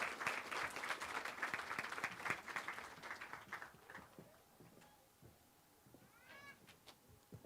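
An audience at a nursing school white coat ceremony applauds, a dense burst of clapping that is strong at first, then thins into scattered claps and fades toward the end, with a brief voice near the close.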